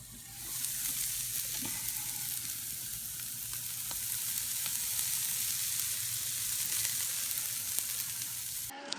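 Steak grilling in a pan gives a steady, dense sizzle that holds close and even throughout, with no voices over it.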